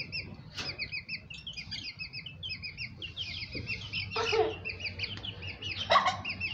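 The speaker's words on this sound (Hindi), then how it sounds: "ये माइन का चूजा।" Young chicken chicks chirping in a steady series of high, repeated peeps, fairly close, with a couple of louder rustling or handling noises and faint background murmur.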